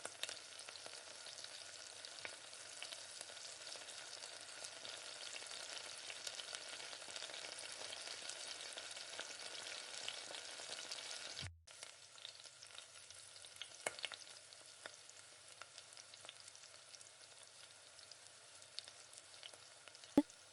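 Tomatoes sautéing in a pan for a mutton gravy give a steady, fairly quiet sizzle with occasional stirring scrapes; it briefly drops out near the middle, then returns softer.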